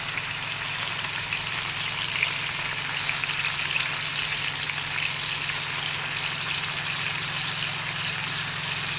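Kingfish pieces frying in hot oil with curry leaves, a steady broadband sizzle that holds unbroken and fairly loud throughout, with a low hum beneath and no talk.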